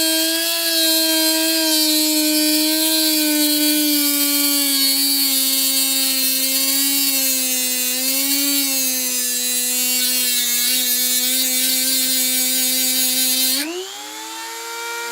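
A Dremel rotary tool grinds an eBay-bought sharpening stone with a loud, steady high-pitched whine that wavers slightly under load, then drops in pitch as the tool spins down near the end.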